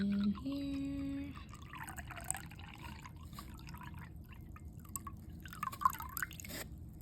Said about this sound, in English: I'm going to place some of the water in here.